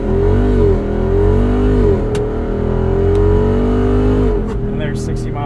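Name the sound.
Jeep Wrangler launch-control start accelerating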